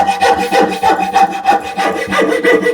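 A coping saw cuts through wood by hand in quick, even back-and-forth strokes, each rasping pass loud and close, with no voices.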